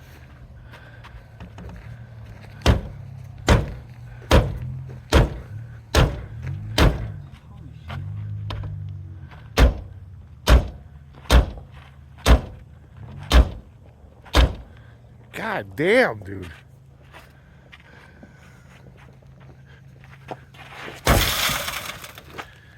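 Repeated sharp impacts strike the window glass of a Ford Ranger truck door, about a dozen loud evenly spaced knocks with short pauses, followed by a brief scraping rattle and a harsh noisy burst near the end; a voice speaks briefly.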